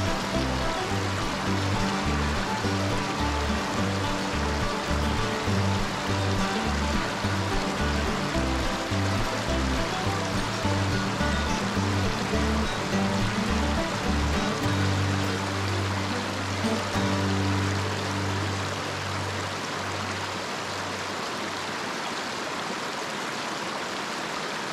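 Cold mountain creek water rushes steadily and loudly over rocks in a wild river setting, a continuous full splashing flow with no voices.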